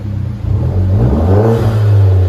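Hyundai Genesis Coupe 2.0L turbo engine with straight pipes revving, a loud, steady low rumble that swells and holds near the end, with a faint turbo whir over the exhaust drone.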